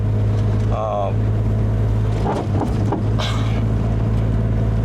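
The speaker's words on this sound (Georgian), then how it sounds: "ყველაფერი ხმაურობს ინტერიერში საერთოდ, მაგრამ მაინც დადის" Inside an old car on stiff coilover sport suspension over a rough road: constant loud road and engine drone with scattered rattles and knocks from the interior, and a brief voice early on.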